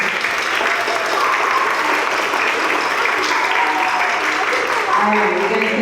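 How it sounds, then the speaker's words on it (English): Sustained applause from an audience at a school spring band and orchestra concert, steady and full for several seconds with no break. "So those students, let's give them a round of applause."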